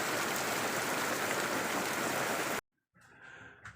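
Steady rain drums on a boat under renovation, a dense unbroken hiss that cuts off abruptly into near silence, followed by faint quieter sounds.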